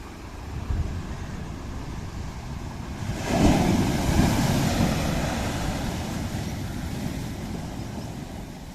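Rough sea surf roars at a beach, with a steady wash of waves and wind buffeting the microphone. Around three seconds in, a louder wave crashes and then settles back into a continuous, churning roar.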